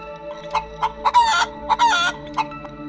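Chickens on a village poultry farm cluck in short bursts with a couple of louder rooster-like squawks, close and clear over a steady low hum.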